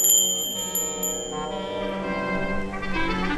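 A bell in Lenin's old government meeting room, once used to open Soviet cabinet meetings, rings out once with a bright ringing tone that lingers and slowly fades.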